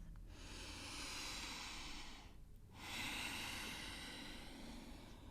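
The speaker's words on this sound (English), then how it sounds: "Take a deep, full breath." A deep, full breath during a yin yoga session, heard close and steady: a long breath, a brief quiet pause near the middle, then another long breath.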